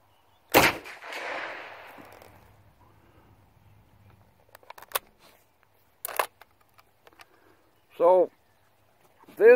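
A single loud, close .30-06 rifle shot fires a 150-grain lead bullet at a big steel plate, followed by a brief rumbling tail, then scattered faint clicks and short bursts of other sounds.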